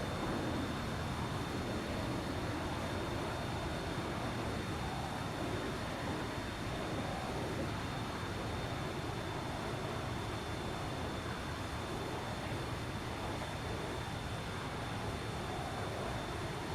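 Aircraft forward thrusters engaging in the military game Arma 3 give a steady, loud, continuous engine roar with a thin high whine running through it, unchanging for the whole stretch with no voices.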